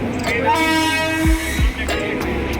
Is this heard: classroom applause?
no